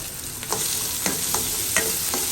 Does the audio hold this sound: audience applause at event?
no